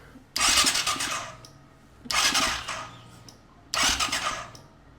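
Three separate bursts of a broken ATV or dirt bike engine cranking over on the starter, each lasting about a second and a half, with quiet gaps between them.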